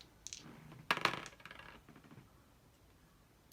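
Two red dice are rolled for a Street Masters board game, giving a few quick clattering knocks on a tabletop followed by a short rattle that fades out.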